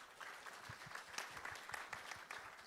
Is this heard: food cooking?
no